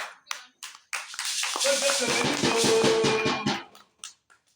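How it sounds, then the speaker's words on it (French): A church congregation claps in a quick, steady rhythm for a few seconds, with voices singing or calling out over the beat before it fades into scattered taps. "Applaudissez pour nous"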